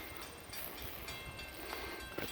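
A freight train passes near a crossing in a faint, steady rumble with light rail clatter, heard from a distance without talk.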